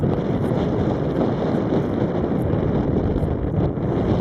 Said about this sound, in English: the Wind's picking up nice